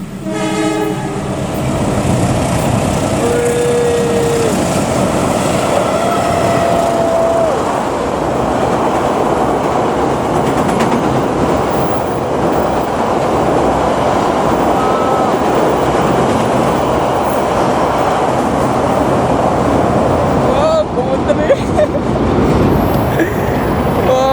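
A train crosses a long railway bridge, a loud continuous rumble of wagons on the span lasting throughout, with horn blasts near the start and a clattering shift toward the end.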